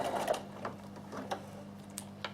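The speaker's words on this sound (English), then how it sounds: "There is my first run there of my black stitching, and it's right beside my entredeux." A Bernina sewing machine runs straight black stitching alongside entredeux lace in heirloom sewing, giving a soft mechanical hum with a few faint ticks and clicks, close and fairly quiet.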